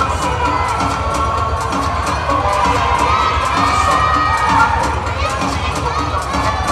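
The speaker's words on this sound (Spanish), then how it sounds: "¡Aplausos!" A loud crowd at a bodybuilding contest's costume-category awards cheers and shouts continuously, a dense roar of voices with whoops layered over likely applause.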